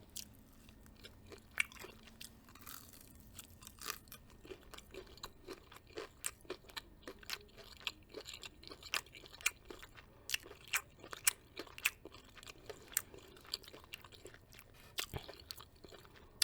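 Crunchy Popeye's chicken tenders are bitten and chewed close to the mic, with dense crisp crunches in an uneven rhythm throughout and no talk.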